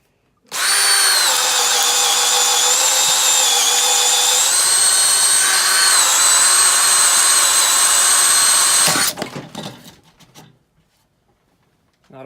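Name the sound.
Makita brushed hammer drill drilling on speed 1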